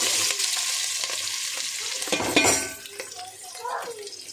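Onions dropped into hot oil for a potato and brinjal curry, giving a steady close sizzle with scattered stirring clinks, a louder burst of spattering midway, then settling to a softer fry.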